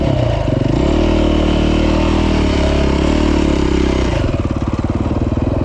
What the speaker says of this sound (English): You get good at kickstarting a bike when your stator is average.